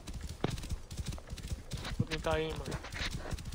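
A horse carrying a rider clip-clops in a steady rhythm of hoof strikes, joined by a short whinny partway through, while people talk loudly over it in Portuguese.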